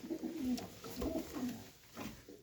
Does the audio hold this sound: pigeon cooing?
yes